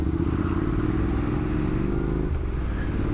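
A Ducati motorcycle accelerates hard somewhere nearby on a local road, heard through a steady, loud engine drone and wind rumble from a moving ride, with the pitch rising slowly and then easing off near the end.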